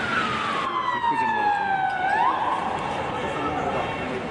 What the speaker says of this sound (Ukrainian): Ми бачимо, приїхала швидка допомога.